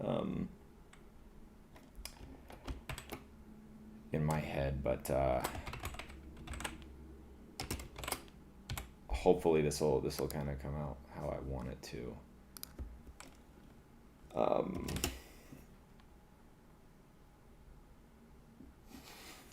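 A keyboard from around 2005 clatters with steady bursts of close keystroke clicks while a person talks over much of the typing.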